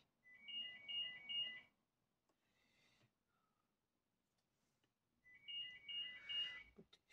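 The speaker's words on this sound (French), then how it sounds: "Le téléphone il peut sonner, je suis pas là." A telephone ringtone trills in two clear bursts separated by a few seconds of near silence, with faint rustling of paper crafting in between, close and moderately loud.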